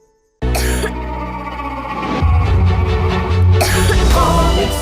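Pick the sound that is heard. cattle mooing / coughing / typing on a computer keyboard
coughing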